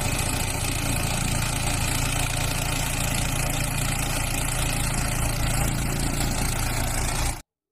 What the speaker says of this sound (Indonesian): Mobil slender buat aspal jalan, teman-teman.